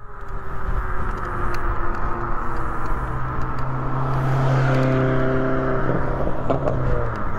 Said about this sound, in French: Tu entends ces bruits des pneus? Le crampon?